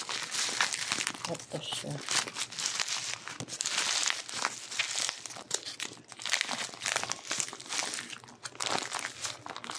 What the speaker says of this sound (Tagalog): Mahirap buksan. Naka-bubble wrap kasi siya.